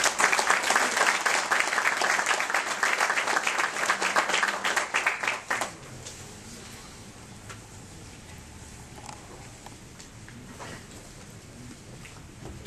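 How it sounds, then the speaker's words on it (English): Audience applause at a martial arts awards ceremony, dense and loud clapping for about five and a half seconds before it stops abruptly and leaves a quieter room murmur with scattered faint sounds. "Please give a round of applause to Muhammad Murata."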